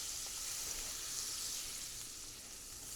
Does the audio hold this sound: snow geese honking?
no